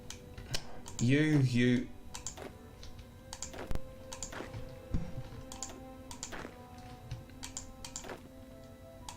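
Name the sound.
computer keyboard typing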